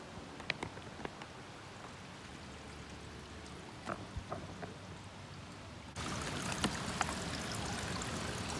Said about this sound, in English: this is a pretty tiny stream. There's kind of a bigger one up here a ways, but this is almost like a fountain